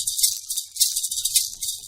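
A rattle is shaken in quick bursts, giving bright, crisp clattering pulses in a loose rhythm, close and clear with no talk.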